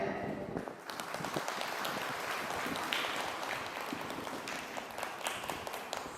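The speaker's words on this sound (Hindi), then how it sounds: "आज हम जोरदार ताली बजाकर का स्वागत करते हैं।" A church congregation at a Karam celebration at Christ the Redeemer Cathedral in Jalpaiguri breaks into sustained applause to welcome the priest, a dense continuous patter of many hands clapping at moderate distance.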